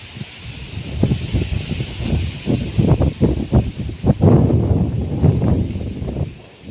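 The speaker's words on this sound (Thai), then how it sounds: "ทำไมลมแรงจังเลยเนาะ" Strong wind gusts and buffets outdoors ahead of a rain storm, with rough rustling and microphone rumble that swell and fade over several seconds.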